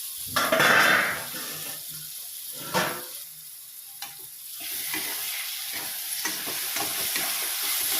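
Chopped tomato and curry leaves hit hot oil in a pan with a loud sizzling burst, followed by scraping stirs and a steady crackling fry, close up with no voices.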